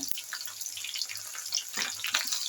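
Mustard seeds and cumin crackle and sizzle in hot oil as a tempering for hotel-style sambar, giving a steady close-up hiss with scattered sharp pops and no talk.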